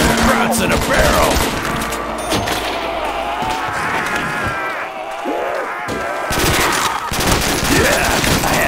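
Dense gunfire from World at War Zombies, rapid machine-gun bursts and shots crackling nonstop and loud, with a voice shouting over part of the barrage.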